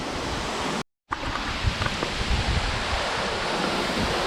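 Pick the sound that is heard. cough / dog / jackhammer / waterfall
waterfall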